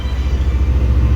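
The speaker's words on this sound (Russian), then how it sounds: "поезд не управляется машинистом, полностью автоматический" A driverless, fully automatic metro train in Dubai rolls along with a loud, steady low rumble and hum, close and continuous, with no talking.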